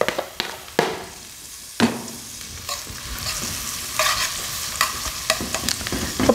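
Seasoned chicken frying in a pan, stirred with scraping, clattering strokes over a steady loud sizzle; occasional sharp knocks of the utensil, no talking.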